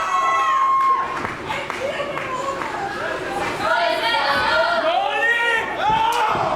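A wrestling crowd at a live show in Berlin roars and cheers throughout, loud and sustained, with shouts rising over the din and an announcer talking over it.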